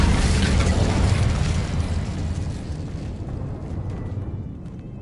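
An Incendio fire spell erupts in a Harry Potter video game as a loud, close whooshing blast of flame that rumbles for a couple of seconds and then trails off into a softer crackling roar, with no voices.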